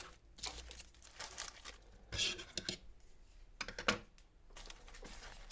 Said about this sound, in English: let me go ahead and fold this under to give ourselves a bit more space